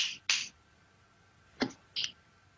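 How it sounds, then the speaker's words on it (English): Four sharp finger snaps, two close together at the start and two more about a second later, crisp and fairly close against near silence. "I thought I heard this finger snap"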